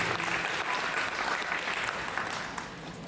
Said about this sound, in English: So one more time, students, please give him a round of applause.